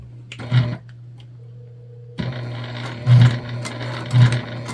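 A sewing machine stitches a Zora shoulder bag through layered fabric and Decovil interfacing, with a steady mechanical hum, a pause, then resumed stitching with periodic heavier thumps as the needle hits bulk.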